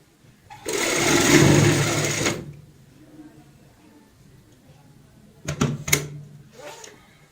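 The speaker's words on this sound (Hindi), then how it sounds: "इसको पक्का करते हुए हम अब सिलाई इस साइड लगाएंगे।" A sewing machine stitches a seam along the zipper of a heart-shaped cushion cover in one steady burst of about two seconds, followed by quiet and a few short clicks and knocks of handling.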